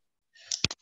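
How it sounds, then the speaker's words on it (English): A beer can is cracked open close by during a casual chat: a short faint hiss followed by one sharp metallic pop and a brief fizz, with no talking. "I'll crack this beer."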